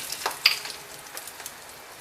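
Red chillies crackling in hot oil with mustard seeds, cumin and asafoetida for a chana sabji tempering, a bright hissing sizzle with a few sharp pops early on that settles into a softer, steady fry.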